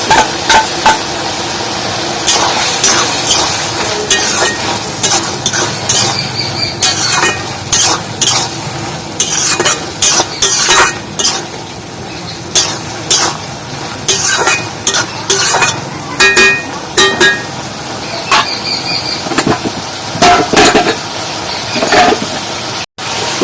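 Chopped fried egg being stirred in a frying pan for a Bengali palm-seed recipe, with repeated sharp clacks and scrapes of a spatula against the pan over a soft sizzle, loud, close and irregular.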